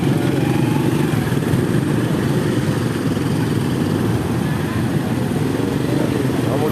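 A motorcycle engine runs in a steady, close, unbroken drone with no pauses or revving changes, its rough low rumble filling the whole stretch.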